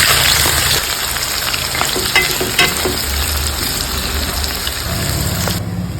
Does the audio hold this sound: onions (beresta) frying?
yes